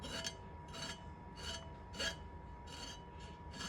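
Skin is scraped off a snake gourd in six short rasping strokes at an even pace, close and fairly quiet, with no talk.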